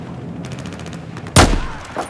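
A single sharp gunshot in the video game Battlefield 4 cracks out loudly over a faint rumbling background, with a softer pop shortly after; nobody speaks.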